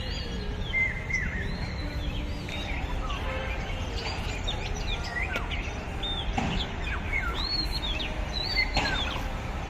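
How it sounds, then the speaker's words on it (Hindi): Many birds chirp and tweet in overlapping calls outdoors, a busy chorus over low background rumble, no clear speech. "आवाज़ तो इतनी प्यारी आ रही थी ना चिड़ियों की"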